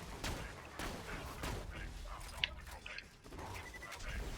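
Gunfire in Borderlands, a series of sharp shots at irregular intervals amid game noise, fairly faint overall with one brief sharper crack near the middle.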